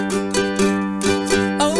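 A ukulele picked with a plectrum plays the opening of a song: bright rhythmic strums and plucked chords in a steady, close, clear pattern with no voices.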